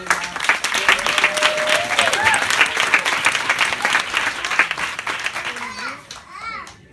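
Audience applause welcoming a fitness presenter, a dense steady clapping crowd with some cheering voices, sustained for several seconds before tapering off near the end.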